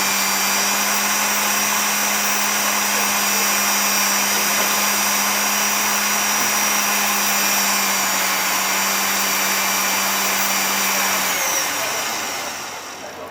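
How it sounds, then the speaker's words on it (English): A rotary tool spins a bristle brush with polishing paste across fire agate, a loud steady whine with a constant hum that runs unbroken, then cuts off and fades near the end, with no talk. "And this is the final polish on the fire agate."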